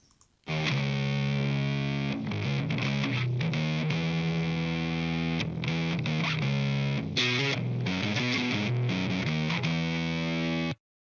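A heavily distorted bass guitar plays a gritty, sustained riff with changing notes, loud and alone, cutting off abruptly at the end.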